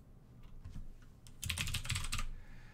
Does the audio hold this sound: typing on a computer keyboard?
yes